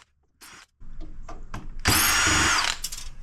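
A power drill spins out screws in quick bursts while scrapping telecom equipment, a short whir, then several brief taps and rattles, and finally a loud, sustained high-pitched drilling run close by.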